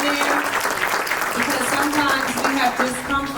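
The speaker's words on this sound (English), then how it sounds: "give our volunteers a round of applause" Audience applause for event volunteers at a talk, a steady dense wash of clapping that carries on throughout with a voice running over it.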